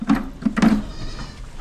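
Goats bleat on a farm with a livestock guardian dog during feeding time, giving three or four short, nasal calls close together, followed by quieter farmyard background.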